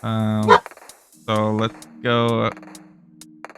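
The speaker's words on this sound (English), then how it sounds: "Sorry guys, that's my dog" A pet dog barks loudly indoors, three sharp barks in a row close by, while someone speaks briefly over it.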